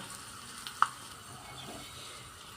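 Faint, soft sizzling of tempering spices with asafoetida in hot oil with a single sharp pop near the start, quiet and close.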